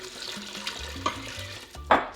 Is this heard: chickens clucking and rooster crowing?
no